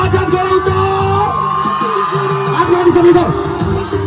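A concert crowd at an outdoor live show in Lamahi whoops and yells in welcome for a singer, loud and close, with shouted voices rising over a steady roar.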